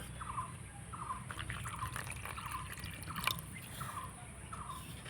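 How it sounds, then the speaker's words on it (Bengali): Water is added to flour for dough in a steady light trickle with faint repeated drips, close and alone, over a constant background hum. "এবার দিয়ে দিব এখানে আমি জল"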